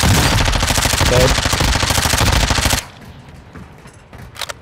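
Rapid automatic gunfire from a military shooter video game rattles loud and dense for nearly three seconds, then cuts off, leaving quieter ambient game sounds with a few faint distant pops.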